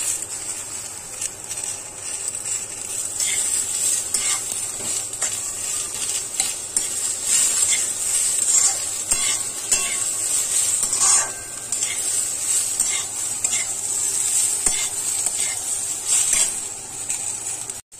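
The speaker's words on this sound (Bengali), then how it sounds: "ডালটা খুব ভালো করে ভেজে নিয়ে এবার আমি দিয়ে দেব টমেটোটা।" Fried lentils and tomato sizzle in a pan with a bright, continuous hiss close by, while a spoon scrapes and clinks against the metal again and again throughout, with no speech.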